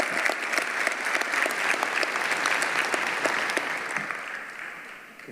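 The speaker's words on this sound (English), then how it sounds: "Let's give all the athletes a round of applause." A hall of fame ceremony crowd gives athletes a sustained round of applause, thick even clapping that fades slightly toward the end.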